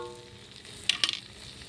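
Onions and spices frying in a pan for a greens dish, a quiet, steady sizzle with two or three sharp crackling pops near the end.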